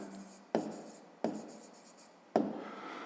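Three short bursts of pen-on-paper writing as an answer is jotted down by hand for a maths exercise, each stroke sharp at onset and tailing off into scratchy friction, close and quiet with brief pauses between.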